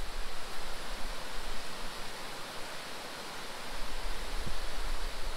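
Kepirowi waterfall in the forest of Pohnpei, a dense, steady broadband rush of falling water filling the whole stretch, continuous and fairly close with slight swells in loudness.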